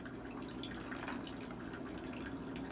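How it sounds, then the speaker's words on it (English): Water trickling and dripping steadily as a freshly watered orchid pot drains, a close, continuous wet patter with no talk. "a really good drink of water and let it completely drain before I put it down"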